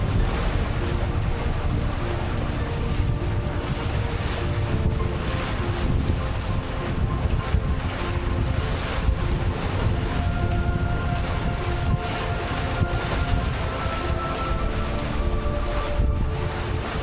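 Steady rush of wind and breaking waves around a sailing yacht at sea on the leeward side of St. Kitts, a continuous, fairly loud wash with hull slap and faint rigging tones throughout.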